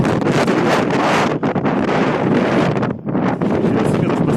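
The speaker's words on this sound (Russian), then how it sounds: "по ущелью дует ветрищик кошмарный" Fierce wind roars through a mountain gorge, buffeting the microphone with loud, continuous broadband gusts that briefly dip near three seconds before surging again.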